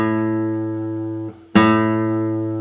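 A guitar note plucked hard, with the force normally used for a harmonic, rings out loud and bright right after a previous sustained note is damped, then decays slowly with rich overtones; no talking.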